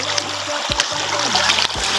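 Water splashes and trickles as people wade across a river on foot in the late afternoon, a steady wet churning with a few sharper splashes, voices faintly present beneath.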